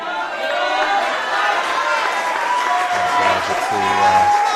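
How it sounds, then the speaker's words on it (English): A crowd at a school weightlifting championship cheers and chatters steadily in the background before a lifter's third attempt, with a few shouted voices breaking through toward the end. "the crowd in the background, really getting in behind Manaya for a third and final attempt"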